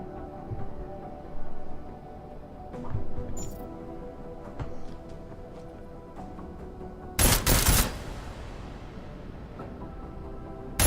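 Gunfire in Deus Ex: Mankind Divided from a silenced weapon: scattered muffled shots over quiet background ambience, then one loud, dense burst of fire partway through.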